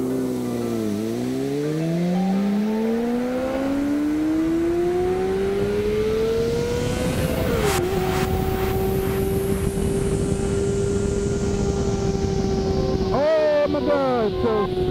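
A Bulldog Badger car revs hard in first gear, the engine note climbing steadily to a high whine, dropping briefly, then holding at a sustained loud pitch before a few quick blips near the end.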